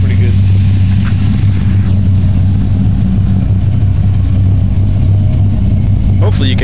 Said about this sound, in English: When I give you the thumbs up, rev it pretty good.